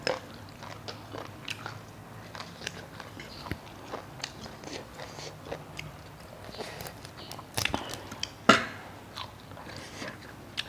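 Close, repeated crunchy bites and chewing come from someone eating a crisp papaya salad with apple snails and bitter neem leaves, with irregular crunches and a few louder snaps.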